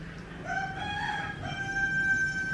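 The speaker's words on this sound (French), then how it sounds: "Et on a le coq de l'autre côté." A rooster crows nearby at a Hindu temple in Bali, a single drawn-out call with a clear rising and falling tone over soft background noise.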